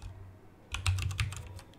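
Computer keyboard typing while entering a file path in a code editor: a short burst of several quick, close keystrokes that begins after a quiet pause and carries on as faint, uneven clicks.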